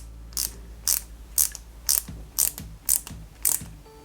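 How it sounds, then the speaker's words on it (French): A small flat-head EP screw is driven into a part of a Peugeot 205 GTI 1.9 model car, giving seven sharp, evenly spaced ratcheting clicks over a faint background hum. "une vis EP tête plate et on visse ça délicatement"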